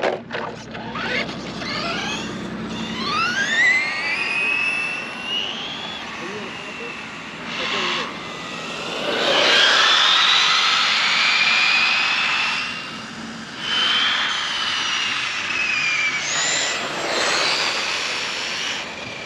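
An Arrma Kraton 8S RC car being bashed, its motor whining in rising and falling high-pitched sweeps, sometimes near and loud, sometimes fading, with some background noise.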